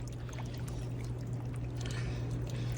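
Water running steadily to flush pine needles out of a clogged drain, a continuous close pouring wash with a low steady hum beneath, unbroken and alone.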